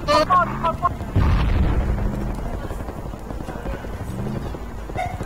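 A grenade bursts in the Project Reality war game, a heavy boom about a second in that rolls off into a long decaying rumble, with voices chattering before and after it.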